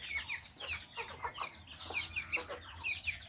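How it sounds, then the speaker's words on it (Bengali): Native chickens cluck and chatter on a rooftop farm, a flock of many birds giving repeated overlapping clucks and squawks at moderate distance over a low background hum. "আমি ছাদে মুরগ লালন পালন করি"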